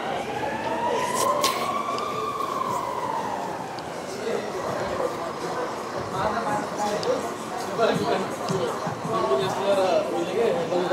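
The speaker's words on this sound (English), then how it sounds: "Oh, emergency ambulance." An ambulance siren wails in a city street, its tone rising and falling at a moderate distance, while people chat nearby and the traffic hum continues underneath.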